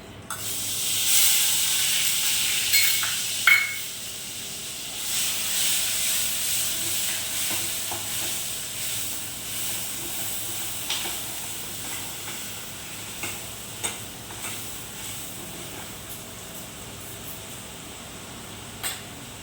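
Asafoetida dropped into hot tempering oil in a pan, making a steady close sizzle and hiss that swells near the start and continues, with occasional light clinks of a spoon against the pan.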